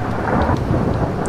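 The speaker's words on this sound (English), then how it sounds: "Oh, and this thundering and lightning." Thunder rolls loud and close over rain in the horror fishing game Mourning Tide, a deep rumble with steady rain beneath and no voices.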